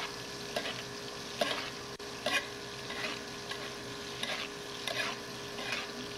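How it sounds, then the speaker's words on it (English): Scallops sizzle steadily in a hot pan as they are basted, with the frying hiss rising in regular bursts with each spoonful over the top. "Baste those scallops."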